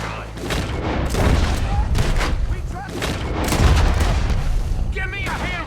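Dense, loud gunfire in a Red Dead Redemption shootout with Arthur Morgan, shots and booms overlapping in rapid bursts without pause for several seconds.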